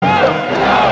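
A huge stadium crowd of cheering fans at the Memorial Coliseum roars in one loud, continuous wash of voices, steady from start to finish.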